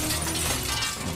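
Glass shatters in the video game Naughty Bear, a dense, loud crash of breaking panes filling the short moment with bright, scattered fragments over a low rumble.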